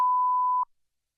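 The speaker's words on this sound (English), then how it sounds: "Mike, are you ready for us to call her?" A single clean electronic tone sounds at the start of a telephone call, holding steady for just over half a second before stopping abruptly into silence.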